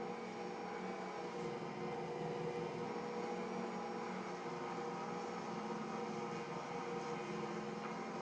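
A stand mixer kneads fresh-milled bread dough with a steady, unbroken motor whir and hum, loud and close, running evenly throughout with no voices over it.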